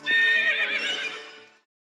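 A horse on a leisurely horseback ride through a shared park lets out a loud, close whinny that trembles for about a second and a half before cutting off, with no talk over it.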